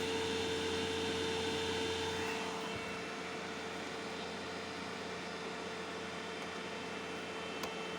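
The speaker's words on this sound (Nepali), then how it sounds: "इन्जिन धेरै तातो छ बल्ल फ्यान चलेको" A motorcycle's engine cooling fan runs on a hot engine, a steady close whirring hum with a tonal drone that continues evenly, slightly louder in the first seconds, with no talk.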